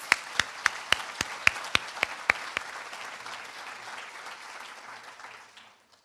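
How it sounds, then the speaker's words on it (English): Audience at a dentistry school declaration ceremony applauding graduates: a crisp run of loud individual claps within dense clapping, which then thins and fades away to silence. "another massive round of applause for our graduates"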